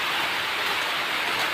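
Steady rain falls in a farmyard with banana plants and goats, a continuous dense hiss of drops on leaves and surfaces, fairly close and even throughout with no voices.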